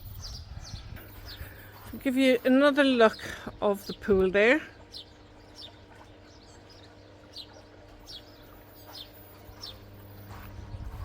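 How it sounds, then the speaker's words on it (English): Scattered, faint bird tweets outdoors beside a pool at a Spanish country property with mountain views, with someone talking over them in the middle of the clip before the chirps carry on quietly. "Listen to the birds tweet,"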